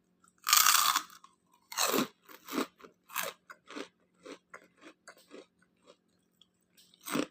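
Crunchy fried cassava chips are bitten and chewed up close, with a loud first crunch followed by a steady series of smaller crisp chews that fade, then a final bite.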